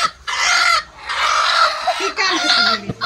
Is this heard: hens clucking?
yes